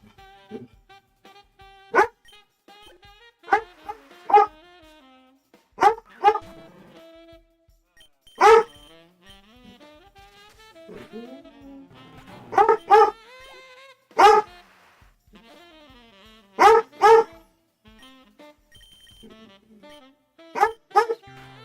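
A puppy barks and yips in short bursts, about a dozen sharp clusters spaced a second or two apart, loud and close with quiet gaps between.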